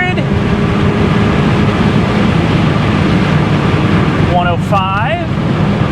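A BMW E36 318i at high revs near 6,500 RPM around 100 mph, heard as a loud, steady rush of engine drone and wind, with a short excited voice near the end.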